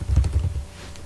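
Keys on a computer keyboard tap in a quick short burst of a few clicks up close, then quickly fade to quiet.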